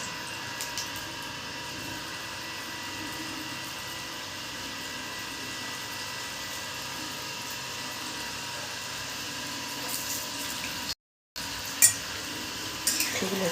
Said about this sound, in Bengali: আমি উল্টো পাল্টে ভেজে নেবো